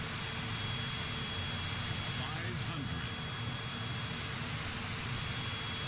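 Airplane in Microsoft Flight Simulator 2020, flown with an Xbox controller on approach to landing, giving a steady, continuous broadband engine drone that holds at an even level throughout with no clear talk.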